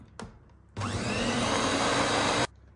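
An electric mixer whisks cake batter with milk and oil, switching on with a sharp onset into a steady loud whir for under two seconds before cutting off cleanly, with no voices.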